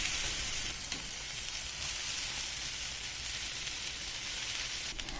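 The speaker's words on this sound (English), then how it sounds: "a cup of peas, that I saute, and to this I add the potatoes." Peas and potatoes sauté in a tablespoon of oil for a chaat, making a continuous dense hiss like light rain, close and even throughout, with no voices.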